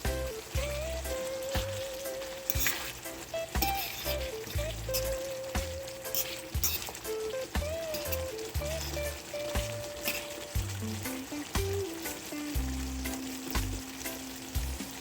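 Steady close sizzling and crackling of dumplings frying in a pan, under soft background music.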